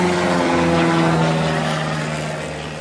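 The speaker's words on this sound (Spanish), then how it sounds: "Oiga, los aviones," Airplanes flying low overhead near an airport, a steady loud engine drone with a sustained low hum that holds throughout and fades slightly toward the end, with no voices.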